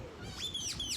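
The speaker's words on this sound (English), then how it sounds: "I don't know if you can hear the birds in the background." Birds chirp and call on Roatan island near the ocean, giving a few short rising and falling tweets over soft ambient background.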